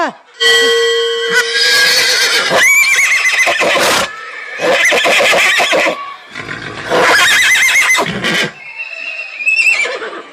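A horse neighs loudly and close by, in several long, shrill whinnying bursts separated by brief pauses.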